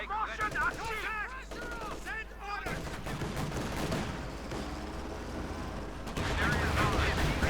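Gunfire from the video game Company of Heroes 2 during a 1v1 match, with repeated bursts of shots and explosions rolling steadily, and a commentator's voice running under the battle.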